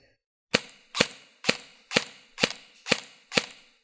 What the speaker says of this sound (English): the sound of the gearbox from about your chin